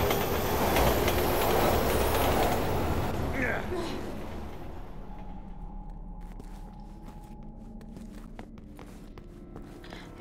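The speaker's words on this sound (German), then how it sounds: "Der Vorteil ist, der Zug löst meine Probleme." A train in the video game Resident Evil 6 rumbles past loudly at first, its clatter and hiss fading away over several seconds, leaving a low hum and faint tones behind.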